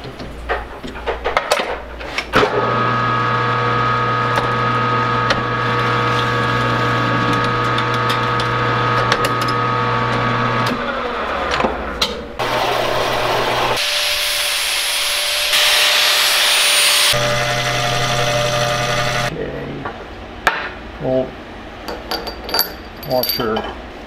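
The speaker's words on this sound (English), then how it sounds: "And cutting it into some washers for the chain locker." A Tormach CNC machine cuts UHMW high-density plastic into washers, a steady loud whine with droning tones that shift between passes, pausing and resuming, then giving way to lighter clattering toward the end.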